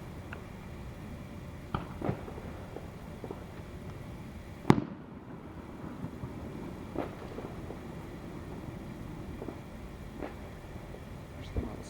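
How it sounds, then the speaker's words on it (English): Fireworks going off outdoors, a sharp loud bang near the middle and scattered fainter pops and crackles before and after over a steady background hum. "Can someone hold this while recording the fireworks?"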